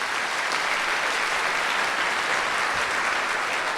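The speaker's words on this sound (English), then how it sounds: "One more round of applause for the band." A school audience applauds the seventh grade band at a winter concert, dense and loud clapping that holds steady the whole time with no gaps, heard alone.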